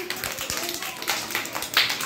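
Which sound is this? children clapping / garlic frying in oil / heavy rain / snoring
children clapping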